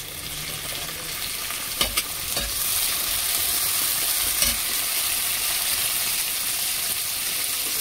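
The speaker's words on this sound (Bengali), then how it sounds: "রসুনটা একটু ভেজে নেব। তারপর টমেটো কুচি দিয়ে দেবো, কুচো টমেটো দিয়ে দিচ্ছি।" Garlic and chopped tomato fry in a pan with a steady, loud sizzle that runs the whole time, broken by a few sharp knocks of stirring near the middle.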